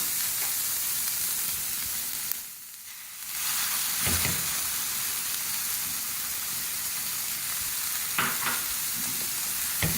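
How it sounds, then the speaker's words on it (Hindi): Mixed vegetables fry over a medium flame, giving off a continuous bright sizzle. Briefly the sizzle dips, then it returns with a few stirring scrapes and clacks of a utensil against the pan. "1 मिनट के लिए मीडियम फ्लेम पर मैंने सब्जियों को फ्राई कर लिया है।"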